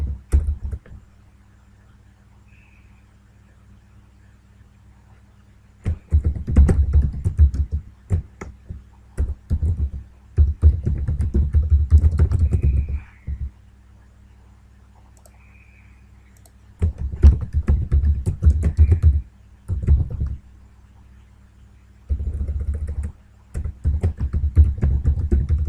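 Close computer keyboard typing and mouse clicks come in several bursts of quick irregular keystrokes, separated by quiet pauses, while a low steady hum runs underneath.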